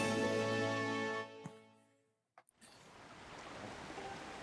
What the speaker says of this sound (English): Diving from a high waterfall at night?